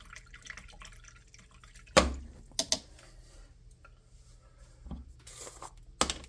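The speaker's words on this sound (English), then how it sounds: "So what I'm going to do is I'm going to wash this brush out real quick." A paint brush being rinsed in a small container of water while painting a miniature anvil, with a few sharp taps and splashy clinks against the container and faint sloshing between them, close and quiet.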